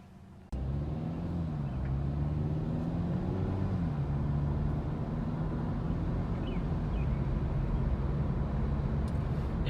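Steady low engine hum inside a 2020 Hyundai Elantra Sport while driving, with road and wind noise from an open sunroof. It stays constant and moderately loud after a brief quiet start, with a faint pitch rise early on.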